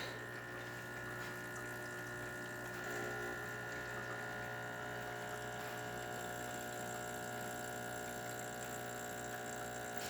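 A Quick Mill Silvano Evo espresso machine pumps water through a shot at 9 bars, a steady droning hum with a constant electrical buzz throughout, close and fairly quiet, with no voices.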